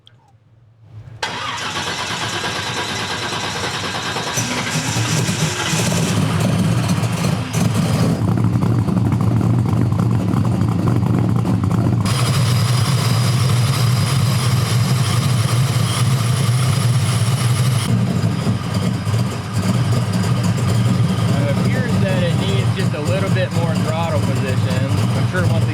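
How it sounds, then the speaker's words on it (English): An 1800 hp twin-supercharged Monte Carlo engine starting on a hub dyno, then idling loud and rough on the edge of stalling, with its tone shifting as it warms up. "it is idling just barely on the cusp of stalling"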